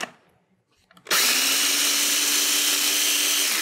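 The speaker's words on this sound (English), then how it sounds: "A pinch of salt into one cup of the oats, and just grind these up" Oats and a pinch of salt are ground into flour in a bladed grinder, which starts abruptly after a short quiet pause and then roars steadily, loud and close, until the end.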